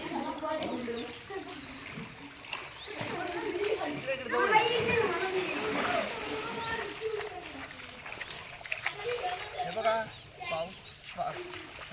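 Children swim and splash in a village well filled to the brim after heavy monsoon rain, with water sloshing and splashing under lively overlapping chatter and voices throughout.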